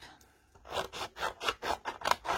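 Scissors snip through a stamped paper face image being cut out for card embellishment, a run of about seven close, crisp rhythmic cuts following a quiet start.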